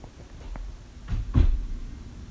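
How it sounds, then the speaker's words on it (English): A side door storage compartment on a 2016 Audi A8 L opens with a soft click and then a firmer thump, two brief close sounds in a quiet cabin. "Side door storage compartment."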